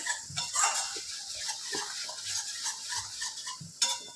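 Salted prawns stirred in a pan, a spoon scraping and clinking against metal in short irregular strokes, close and fairly quiet, with no talk.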